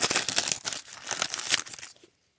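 A 2018 Panini Donruss NASCAR trading card pack is torn open, a close stretch of crinkling and ripping foil wrapper in quick bursts that stops abruptly into silence.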